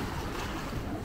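Waves wash onto the beach at Hua Hin in a steady, soft rushing hiss, with faint wind over the surf and no voices.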